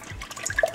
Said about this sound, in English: we're going to go ahead and put the milk into the bowl, the heavy cream